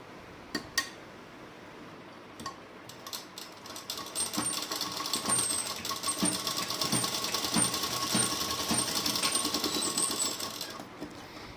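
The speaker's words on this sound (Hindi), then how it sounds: "इसको फोल्ड कर लूँगी और 1/2 इंच पे सिलाई लगा दूँगी" A sewing machine stitches a half-inch shoulder seam on an organza suit, running steadily for several seconds at close range with light clicks and clinks at the start, no voices.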